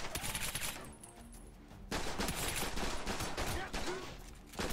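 Gunfire in The Bourne Conspiracy video game, a dense burst of shots that eases off briefly and then resumes as sustained automatic fire, loud and close throughout.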